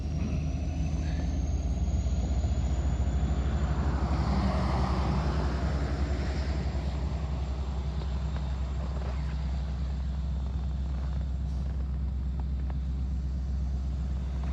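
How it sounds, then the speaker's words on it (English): A heavy engine rumbles low and steady, swelling slightly as it revs, with a continuous mechanical drone throughout and no voices. "sounds like the train's revving up"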